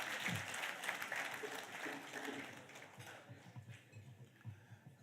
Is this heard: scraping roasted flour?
no